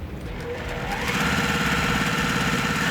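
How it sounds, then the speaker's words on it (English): A sewing machine stitches a quilt block along a diagonal line, starting slower and then running at a steady fast whir with a continuous rhythmic needle chatter, close and alone. "I'm going to sew directly on that line once more."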